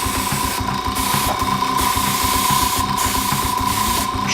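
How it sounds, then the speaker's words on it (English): Airbrush spraying brown ghost tint onto a scale model, a continuous loud hissing spray with a steady compressor hum and slight pulsing, with brief interruptions. "let's go back with the brown ghost tint. Okay, close the airbrush back, adjust."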